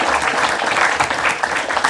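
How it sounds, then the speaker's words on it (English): An audience at a Chatham County Commission meeting applauds parents with strong, continuous clapping that is close and loud, with a faint hum of voices mixed underneath. "Y'all better clap for your people."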